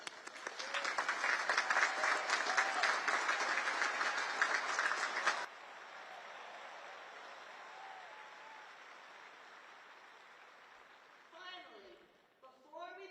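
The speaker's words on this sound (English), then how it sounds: "Please join me in recognizing and applauding these distinguished graduates." Sustained applause from the audience at the 2024 U.S. Naval Academy graduation ceremony for the graduates, a dense wash of clapping for about five seconds that drops to a quieter hall murmur.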